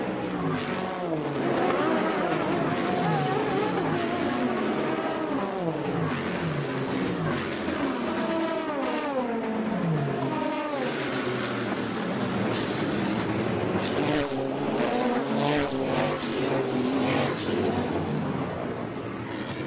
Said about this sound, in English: let's crank it up with WeatherTech on this restart